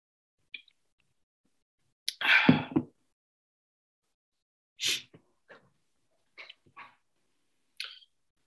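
A single sharp sneeze bursts out after a faint breath, followed by scattered quiet clicks and small noises in an otherwise silent room.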